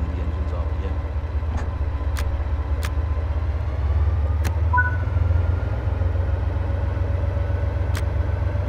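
Locomotive engine in Train Sim World on the Niddertalbahn line, a steady low diesel drone that swells slightly in the middle, with occasional faint clicks.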